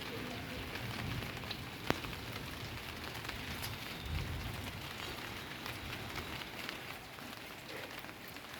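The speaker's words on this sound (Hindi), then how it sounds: "बारिश शुरू हो चुकी है" Steady rain patters on a rooftop kitchen garden in Varanasi, a dense, even hiss of drops with a few sharper close ticks throughout.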